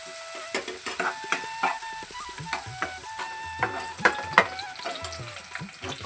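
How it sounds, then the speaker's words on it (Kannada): Onions and green chillies frying in a pan for avalakki chitranna, a steady close sizzle broken by sharp stirring scrapes and clinks, with no talking. "ಸ್ವಲ್ಪ ಗೋಲ್ಡನ್ ಬ್ರೌನ್ ಬರೋವರೆಗೂ ಈರುಳ್ಳಿ ಅಂದರೆ ಹಸಿ ವಾಸನೆ ಹೋಗೋವರೆಗೂ ಫ್ರೈ ಮಾಡ್ಕೋಬೇಕು."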